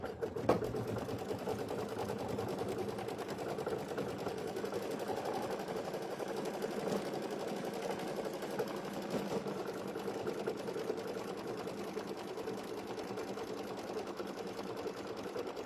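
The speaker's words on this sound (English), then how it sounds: "we're going to go do the satin stitch around the outside of the eyeballs" A sewing machine runs a satin stitch around the eyes of a snowman trivet, humming in a rapid, even needle rhythm that continues steadily and close up without pause.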